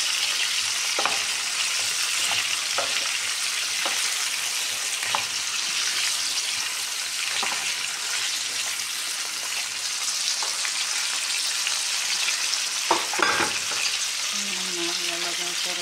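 Shrimp frying in a pan, a steady, dense sizzle with occasional stirring clicks and scrapes, close and loud throughout, with a brief murmur of talk near the end.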